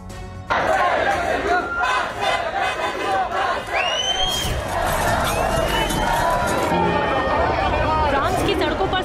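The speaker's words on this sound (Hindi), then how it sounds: "पेरिस में सड़कों पर हजारों प्रदर्शनकारी उतरे हुए हैं" Thousands of protesters clash on Paris streets over pension reform amid vandalized and burning vehicles and police baton charges, a loud dense crowd roar of shouting and chanting that bursts in and stays constant, with whistles rising above it.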